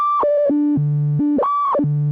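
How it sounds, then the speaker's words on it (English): A 1978 Korg MS-10 monophonic analog synthesizer plays a short stepped melody of clean sustained tones that jump between pitches in quick succession, loud and alone with no talk. "this is the Korg MS-10. It was manufactured in 1978, and it's one of my favorite synths."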